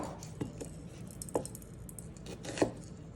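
A knife cuts an onion on a board, making a few soft, separate chopping taps spread over a few seconds against a quiet background hum.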